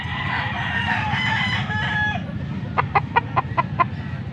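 A young gamecock (stag) gives one loud, close crow, followed by a quick series of five or six sharp clucks, with a low rumble of farmyard noise underneath.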